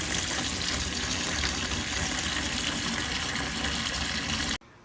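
Old, dirty coolant draining from a 1990 Mazda Miata in a steady, hissing gush of liquid that runs continuously for several seconds, then stops abruptly.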